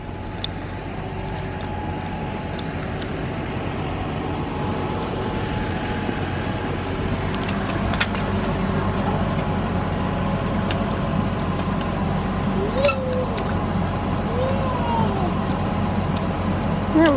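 A car engine idles steadily with a low continuous hum throughout, while people talk faintly nearby and a few brief clicks and thumps sound over it.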